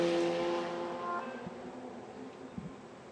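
Porsche 911 race car pulling out of the pit lane during qualifying at Road Atlanta, its engine tone fading steadily from loud to a more distant drone, with no talk over it.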